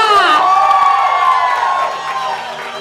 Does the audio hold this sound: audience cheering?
yes